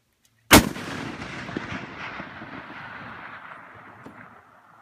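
A single .416 Barrett precision rifle fires at a long-range target about 1,780 yards away. One sharp, loud blast is followed by a long rumbling echo that fades slowly over several seconds.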